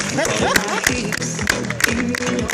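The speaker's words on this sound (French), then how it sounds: "Donc on peut l'applaudir." Audience applause at a comedy festival in Saint-Estève for a comedian, a dense, steady crowd clapping filling the room with lively murmuring and voices underneath.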